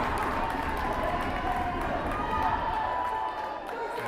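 A crowd at a Brookdale men's college basketball game against the Bergen Community College Bulldogs roars in a dense, continuous wall of cheering that fills the gym and dips slightly near the end.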